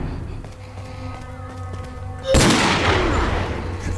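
A loud burst of gunfire in the PC video game Resident Evil 4 breaks in partway through, following a quieter stretch with a steady electronic tone and faint clicks.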